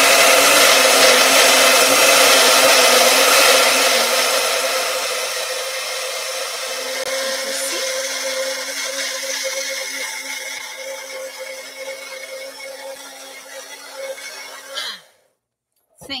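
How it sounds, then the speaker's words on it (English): A Magic Bullet blender whirs loudly up close as it blends batter for a gluten-free wrap, a steady high motor whine that eases slightly in pitch and level before cutting off abruptly near the end. "and I'm gonna put it in my blender"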